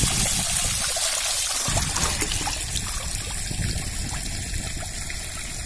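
Raw chicken pieces get a thorough rinse, with water pouring and dribbling over them in a close, steady stream and splashes that shift partway through.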